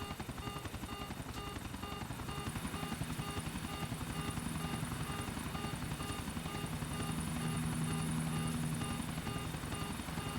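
A helicopter-like aircraft flying in Grand Theft Auto IV, a constant loud rotor chop and engine drone with a rapid rhythmic beat that holds steady throughout, alone without talk.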